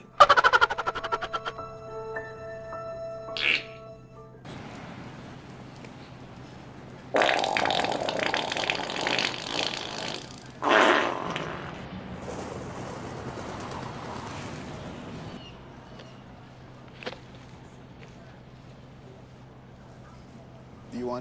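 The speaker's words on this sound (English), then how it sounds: "Forrest Gump farting" A compilation of comedic fart sounds: several loud, close bursts of varying length with pauses between, plus some quieter rumbling stretches and bird-like cooing noises.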